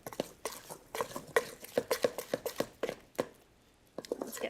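Batter is stirred in a bowl to work out lumps for a Thanksgiving dish, the utensil tapping and scraping against the bowl in quick, irregular strokes, close and fairly quiet with no talking.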